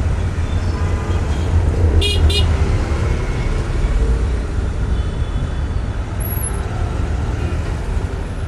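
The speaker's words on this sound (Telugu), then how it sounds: "బోయినపల్లి టు మేడ్చల్ కొంపల్లి రోడ్ అయితే ట్రాఫిక్ ఇప్పుడు చాలా ఎక్కువనే ఉంది" Heavy road traffic on the Boinpally to Medchal Kompally road, a loud, continuous rumble of engines with a short double car-horn toot early on.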